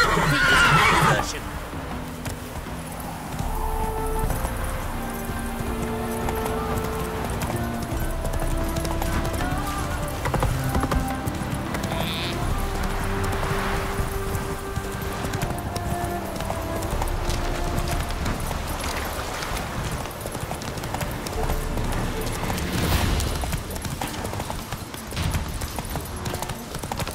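Roach, a horse in The Witcher 3, gallops with steady clip-clop hoofbeats and gives a clear whinny, under game music with a voice speaking over it.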